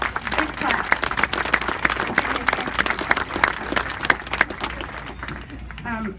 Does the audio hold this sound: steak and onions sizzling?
no